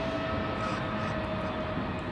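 An airplane passes overhead as a steady, moderately faint engine drone and rumble with a thin whine, continuing evenly behind the scene without clear speech.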